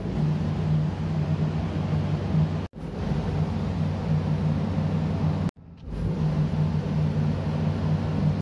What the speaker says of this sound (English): So that was the first test on a good motor and is reading well within the margin.